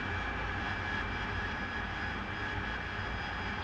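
A steady, loud jet engine roar from an AV-8B Harrier II in the DCS flight simulator, running at high RPM, holds constant with a faint whine and no speech.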